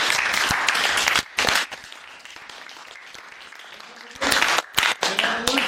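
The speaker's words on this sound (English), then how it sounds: "All right, everybody give a round of applause." An audience at a JROTC cadet public-speaking session breaks into applause, with dense bursts of clapping at the start and again near the end, and a stretch of quieter talking in between.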